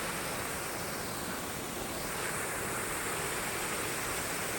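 Water spilling down a mountainside like a small waterfall at Manalar Falls makes a steady, close, continuous rushing hiss that never lets up.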